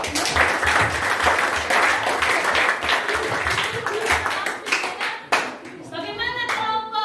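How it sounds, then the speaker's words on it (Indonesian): Classroom clapping by students in a junior secondary school lesson, a lively burst of many hands that tapers off, followed by a voice speaking near the end. "Ayo, diberikan dulu tepuk tangan."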